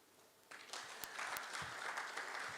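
Applause from a gala dinner audience in Uganda starts after a brief quiet moment and swells into steady clapping from a large crowd, a little distant and fairly soft, with a couple of sharp clicks near the start.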